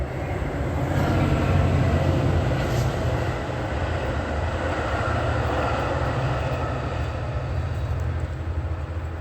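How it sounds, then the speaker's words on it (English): A train passes by with a continuous loud rumble and rattle, swelling slightly early on then holding steady throughout. "Also, Salak, you let this train pass by."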